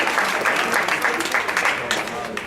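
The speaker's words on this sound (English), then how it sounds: "let's give the parents, please, a round of applause" Applause for the parents rises at an athletic awards banquet, a moderate patter of clapping from a seated crowd with talk and voices layered over it.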